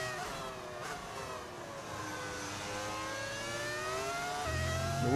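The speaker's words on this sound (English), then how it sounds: "How are you getting V10 sounds?" High-revving V10 engine of a Formula 1 car in the F1 25 racing game, a steady sustained whine with rising and falling harmonic sweeps as it shifts through gears, continuous and fairly loud throughout.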